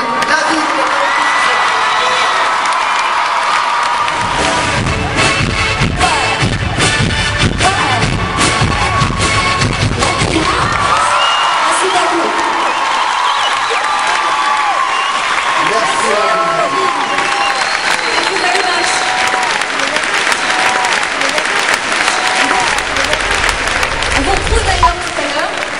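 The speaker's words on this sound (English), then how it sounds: "Mesdames et messieurs, un tonnerre d'applaudissements pour Avril." A large TV studio audience claps and cheers continuously for Avril Lavigne, loud and dense, with whoops rising over the steady applause throughout.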